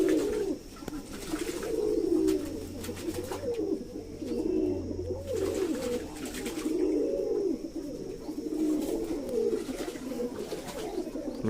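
A new white lakka pigeon male calls with repeated low, throaty coos, close and clear, in rolling phrases over a steady background hum.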